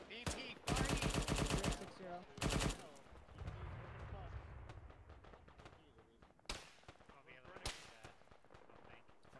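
Gunfire in the Arma military video game, with dense bursts of automatic fire, a few separate loud shots and distant cracks, and quiet voices talking over the radio between the bursts.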